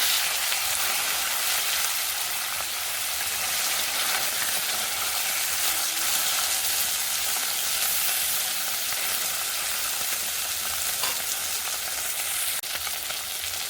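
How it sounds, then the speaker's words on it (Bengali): Fish fries in a small amount of oil in a pan, giving a steady, even sizzle that carries on for over ten seconds without pauses or voices. "এই মাছগুলো একটু ভেজে রেখে দেবো, তাই অল্প করে ভাজবো"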